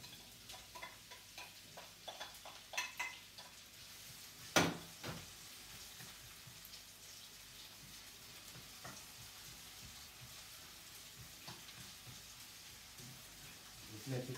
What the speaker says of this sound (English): I like to put in my garlic in the oil just to fry a little bit